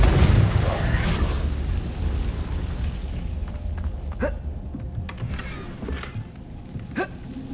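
A Confringo fire spell bursts in the game Hogwarts Legacy with a loud booming blast at the start that fades into a rumbling tail, followed by sharp scattered pops and cracks.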